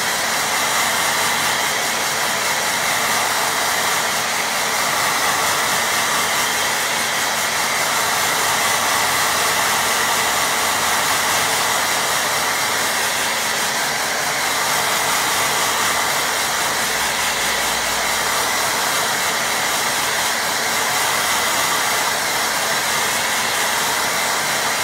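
A hair dryer blows on a watercolour painting, giving a steady, loud whooshing roar that runs unbroken throughout with no voices.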